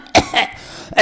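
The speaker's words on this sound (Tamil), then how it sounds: "நான் இருமுவேன்." A person lets out a few harsh, close coughs in quick succession: two rough bursts, a brief pause, then another loud cough.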